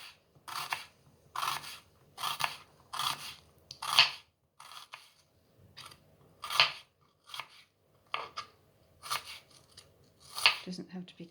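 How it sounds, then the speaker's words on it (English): A knife chops a red onion on a cutting board in a home kitchen, giving about a dozen crisp, irregular cuts at close range, each a short crunchy burst with brief pauses between. "I've got a little bit of red onion here to chop"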